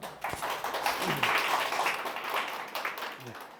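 Scattered clapping rises from the audience at a Korean urban regeneration academy graduation ceremony, quiet and uneven, with a few sharper claps standing out and a murmur of voices in the room.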